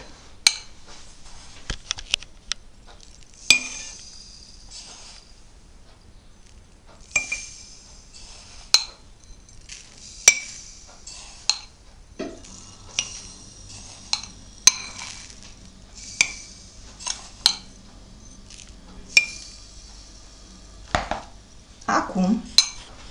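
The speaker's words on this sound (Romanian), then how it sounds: "vom pune în fiecare borcan câte o lingură de zahăr" Spoons clink against glass jars as sugar goes into each jar of cherries being prepared for compote, a run of sharp taps and clinks scattered irregularly throughout, close and fairly bright.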